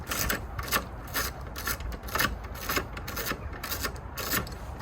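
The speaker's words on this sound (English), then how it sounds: "I'm going to go and get my 10mm socket now and get these on" A 10mm socket ratchet working a headlight bolt on a Mini Paceman R61, quick repeated rasping clicks in a steady rhythm, close and fairly quiet with no talk.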